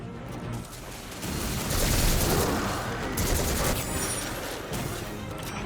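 Heavy automatic gunfire in Destiny 2 roars as a dense, continuous barrage from new guns, loud and near, layered with clatter and impacts and no voices.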